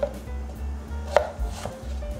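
A knife chops an English or Persian cucumber into quarters on a cutting board, a few soft close thuds with one sharper knock on the board, no voices.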